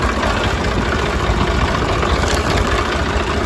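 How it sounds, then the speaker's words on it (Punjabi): A tractor engine idling nearby, a loud steady low rumble with constant vibration and no talking. "ਹੁਣ ਅੱਗੇ ਲੈ ਕੇ ਜਾਣਾ ਟਰੈਕਟਰ"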